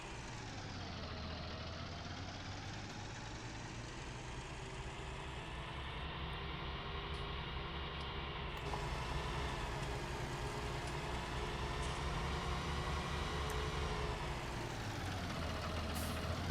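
A tractor engine in Farming Simulator 19 runs at a steady, continuous drone with a low rumble, holding fairly constant with slight rises in pitch and load, no talking over it.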